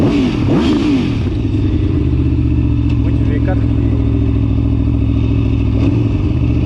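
An Aprilia Tuono V4 1100 RR fitted with an Akrapovic exhaust and quickshifter runs loud and close, its engine droning steadily throughout with a rise in revs near the start.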